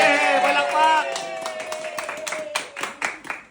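Voices sing and cheer at a birthday celebration. Then a group of people claps in quick, uneven bursts that trail off, close and fairly loud.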